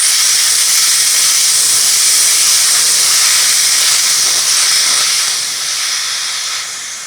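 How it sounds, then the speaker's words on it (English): Compressed air blasts from an air tank's drain valve in one loud, steady hiss. It holds strong for several seconds, then weakens gradually toward the end as the tank pressure drops, and nobody talks. "let's go ahead and get the air draining"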